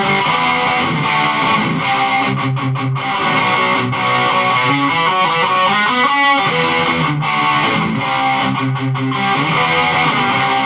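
A dirty, distorted electric guitar plays through a Marshall amp model into a Line 6 Powercab speaker, loud and sustained, with thick chords and picked riffs and no talking.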